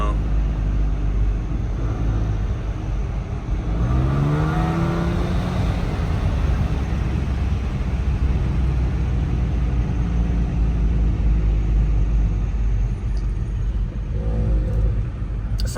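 A car's engine and exhaust drone with a rough, broken-sounding rumble, rising in pitch as it revs around the middle of the stretch, heard steadily from inside with voices talking over it.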